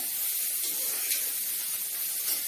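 Steady, bright sizzling of tempering spices in hot oil, a continuous crackling hiss with small pops, heard close up and without voices.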